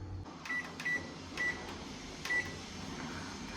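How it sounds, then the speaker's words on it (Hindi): A microwave oven heating a bowl of face wax hums steadily, with several short electronic beeps sounding at intervals over the constant drone. "मैं माइक्रोवेव में गर्म कर रही हूँ"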